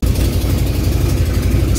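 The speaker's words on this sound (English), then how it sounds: "I'm messing with the idle fuel mixture on the 73, trying to make it idle a little bit lower." A 1973 V8 car engine idling high while its idle fuel mixture is being adjusted: a loud, close, even rumble with a steady pulsing beat, running alone without any talk.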